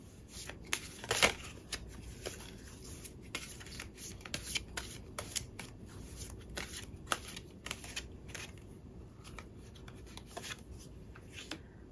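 Tarot luck-advice cards are shuffled by hand in a quiet room, a steady run of crisp riffling and rapid flutters with occasional sharper card snaps, close and clear with no talking.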